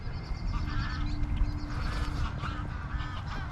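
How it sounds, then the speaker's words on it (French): A flock of geese honks steadily as the birds take off together in spring at a bird reserve, overlapping calls heard from a moderate distance over a continuous low rumble. "Ah, c'est le départ des oies."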